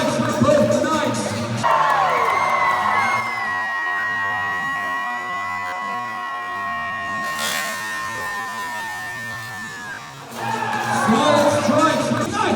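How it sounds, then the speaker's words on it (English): An outdoor crowd at a medieval fair joust cheers and whoops in a long sustained roar, with a single high held yell riding above it, and talk resuming at the end. "the crowd goes nuts!"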